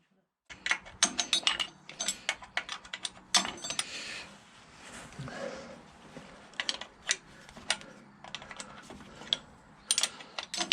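Half-inch spanner working the carburettor bolts on a tractor: a run of sharp metallic clicks and ratcheting taps in uneven bursts, close and fairly loud, with brief handling knocks between them.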